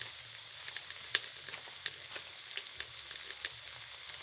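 Ingredients stir-fry in hot oil in a pan while cooking jaew bong with frog, a steady faint sizzle broken by small pops and a few sharper crackles.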